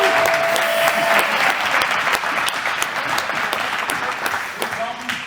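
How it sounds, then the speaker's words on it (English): Audience applause at a comedy roast, sustained clapping from a crowd at a fairly loud, even level that fades slightly toward the end, with a voice briefly heard over it. "give him a round of applause"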